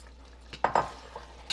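Prawns, about 300 grams, tipped into a pan of curry masala, giving a couple of close, soft wet clatters and a light scrape against the pan, with a brief utensil tap near the end.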